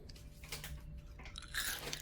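Someone bites into and chews a crunchy homemade funnel cake made from buttermilk pancake mix and soda, giving a few quiet, close crisp crunches over about two seconds.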